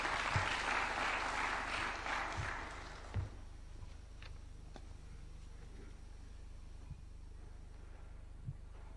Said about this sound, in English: Why don't we welcome him with a warm clap?